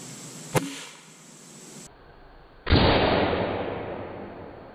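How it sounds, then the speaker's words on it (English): An air rifle fires an RWS Superdome pellet into a ballistic gel block: a sharp crack, then a second louder report with a decaying tail. "the first pellet we're going to shoot is the RWS Superdome that we shot in the chronograph test"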